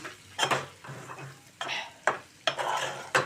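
Broad beans and tomato being stirred in a pan with a spoonful of coriander powder, heard as several distinct scraping, clattering stirs against the pan over a soft background sizzle, close and without talk.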